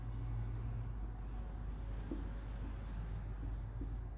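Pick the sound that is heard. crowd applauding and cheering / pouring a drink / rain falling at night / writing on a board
writing on a board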